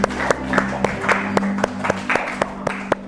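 A classroom of students claps for a classmate, scattered uneven claps with sharp separate hits over a rhythmic beat and some background chatter, fairly close and moderately loud.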